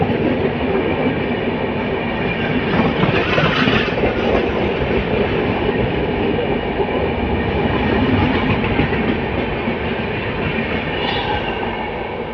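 Seemanchal Express passenger train rolling along rails near Anand Vihar, heard as a steady, loud, dense rumble with wheel clatter throughout, no voices.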